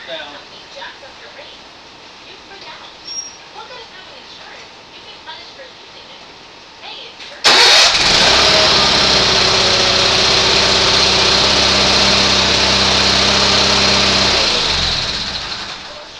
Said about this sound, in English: so barely got the engine cranked over,